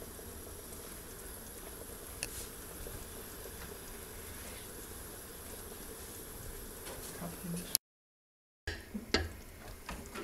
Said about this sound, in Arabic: شفتوا الصوص تغلي